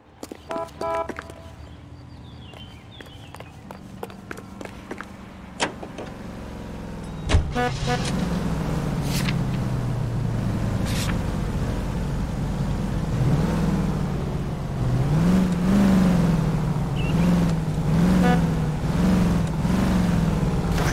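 Clicks and small mechanical noises give way to a car engine starting and driving in the video game L.A. Noire, its pitch rising and wavering steadily as it speeds along.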